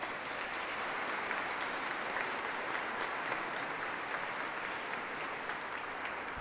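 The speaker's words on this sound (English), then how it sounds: "Can we give them a round of applause?" Congregation applauding during a Mass for the Feast of Mary MacKillop, an even, sustained wash of many hands clapping in a large reverberant church, steady and continuous throughout.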